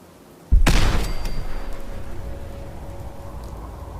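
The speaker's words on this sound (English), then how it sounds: "There's my grenades. So I just decided to throw them" Grenade blast in the video game Fallout 4: a sudden loud boom at about half a second, followed by a long rumbling, crackling decay and a faint ringing tone, with no talking.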